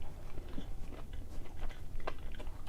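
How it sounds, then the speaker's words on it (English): Crunchy bites into a Raising Cane's fried chicken tender, close and crisp, a few crackling crunches and chewing over a steady low background hum. "I got an extra crunch from this tip over here."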